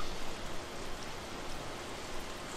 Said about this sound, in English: It's raining, dude.